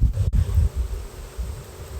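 Honey bees buzz loudly around an open Layens hive, a dense low drone that swells and dips close by, with a faint rustle over two seconds.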